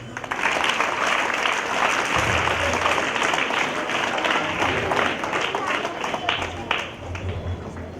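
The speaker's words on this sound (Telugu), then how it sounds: "క్లాప్స్." An audience at a culture and heritage workshop in Khammam applauds, sustained dense clapping from a crowd that holds steady for several seconds, with a voice briefly audible beneath.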